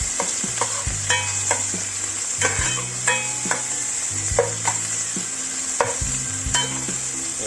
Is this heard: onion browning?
yes